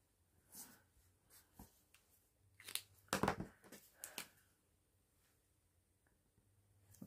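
A fine black marker scratches across scrap paper in a series of short, faint, close strokes and taps separated by quiet gaps, with one busier burst in the middle.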